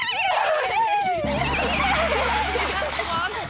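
A person imitates a horse's neigh, a shrill, wavering whinny that drops in pitch, followed by a low humming drone underneath.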